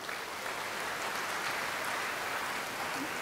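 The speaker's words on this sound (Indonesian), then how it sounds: "Mari kita beri tepuk tangan" Graduation ceremony attendees give a steady, dense wash of applause for cum laude graduates, evenly sustained across the whole moment without breaks or voices.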